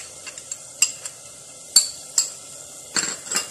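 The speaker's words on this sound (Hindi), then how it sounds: "अब यहाँ इस स्टेज पर मैं इसमें लहसुन अदरक की पेस्ट डाल दूँगी" Garlic ginger paste dropped into a pan of frying onions and stirred, giving a few sharp utensil clinks and scrapes against the pan over a faint sizzle, spaced irregularly and close by.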